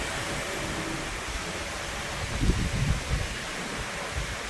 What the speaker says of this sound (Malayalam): കാറ്റാണ്